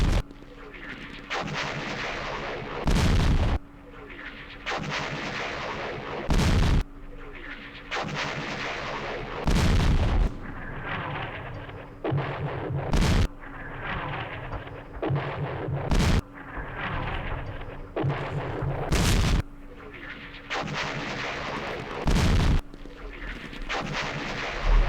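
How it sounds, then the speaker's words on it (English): Artillery fire in the wargame Campaign Series West Front: repeated heavy booms at irregular intervals over a steady rumbling battle backdrop, each blast loud and abrupt. "At least the artillery missed."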